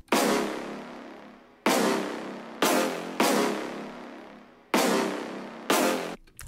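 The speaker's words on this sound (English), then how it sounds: "For the fourth sound, it's a brass hit," A brass orchestra-hit sample from a trap drum kit strikes six times in an uneven pattern, each loud, bright stab decaying over about a second before the next hit cuts in.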